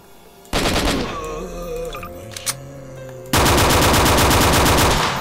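Bursts of automatic gunfire from a Garry's Mod zombie survival game on a Chernobyl-themed S.T.A.L.K.E.R. map, loud and sustained with rapid repeated shots, a brief pause midway, then an even louder dense volley to the end.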